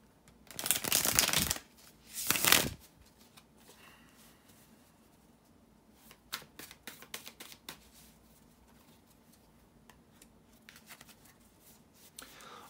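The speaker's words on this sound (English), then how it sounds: "bear with me a second, guys, to shuffle the tarot cards" Tarot cards shuffled close up: two loud riffle bursts at the start, followed by softer scattered taps and slides of cards being gathered and handled.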